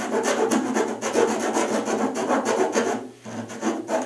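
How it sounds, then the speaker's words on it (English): Hand filing or rasping to enlarge a hole in a K14 Kadet LT-40 wing test mount, a continuous scraping rub with rhythmic strokes, close and fairly loud, with a brief pause near the end. "just enlarge the hole on the upper right side"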